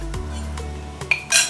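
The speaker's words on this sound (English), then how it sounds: "And then I'm going to add in the salmon now." Salmon pieces dropped into a lightly oiled hot pan for stir-frying, with a few clinks and knocks of utensils against the pan and a short sizzle-like hiss at the end.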